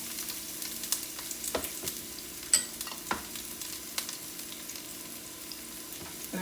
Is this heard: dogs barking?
no